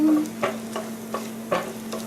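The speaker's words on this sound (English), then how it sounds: "Keep stirring it until the cream cheese and the cheese melt together" Cream cheese and shredded cheese stirred together in a pan as they melt, with a low steady hum under soft sizzling and a few rhythmic scraping strokes of a spoon.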